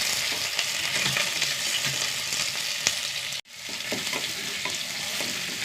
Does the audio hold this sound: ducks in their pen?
no